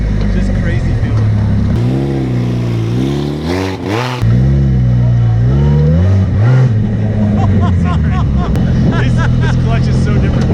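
A DF Goblin car's engine revs loudly from inside during a ride, pitch climbing and dropping through gear changes with the clutch worked unevenly, while people talk over the engine noise.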